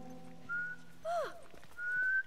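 A character whistling in the video game The Last of Us, three short clear tuneful notes, one gliding downward, heard fairly close over a quiet low background hum.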